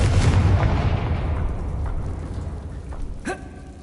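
In Hogwarts Legacy, a Confringo spell goes off as a heavy, booming blast right at the start. Its rumble fades out over a few seconds, and a smaller crack follows near the end.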